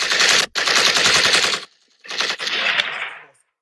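Gunshot sound effects in a dancehall song burst out as loud, rapid automatic fire, two long rattling volleys separated by a brief gap, with a fading tail at the end.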